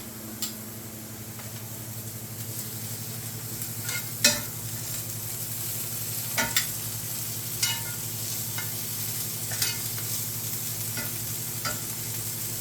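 Celery and 4 or 5 cloves of garlic browning in a pan give a steady, soft sizzle, broken by occasional sharp clicks and taps of a utensil. No one speaks.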